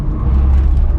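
A Renault Zoe electric car at wide open throttle on the Nürburgring gives a steady, loud low rumble and whir of road and drivetrain noise that holds for about a second.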